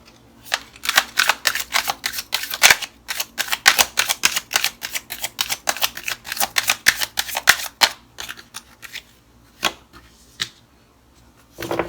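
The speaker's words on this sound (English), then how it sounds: "Shuffle these more." Tarot cards are shuffled in quick, crisp riffling bursts, a rapid run of flicks followed by a few sparser snaps as it winds down.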